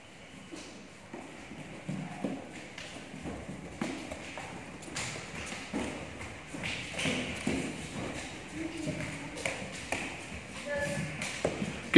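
Bare feet hopping and jumping during Kyokushin karate training, a rapid irregular patter of light thuds and taps on the floor, with a voice calling instructions in the background.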